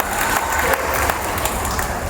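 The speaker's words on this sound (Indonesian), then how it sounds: "kita tepuk tangan ya" Applause from the congregation at a Christmas Eve Mass at St Aloysius Gonzaga Church, Cijantung, a brief steady patter of many hands clapping at moderate level.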